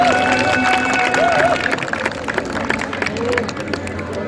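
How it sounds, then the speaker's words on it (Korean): Applause from the seated crowd at a jokgu (foot volleyball) tournament in Ulsan's Buk-gu, honoring the club team leaders as they stand; steady clapping mixed with crowd murmur and a few voices in a large hall. "우리 단장님들께 뜨거운 박수 부탁드리겠습니다"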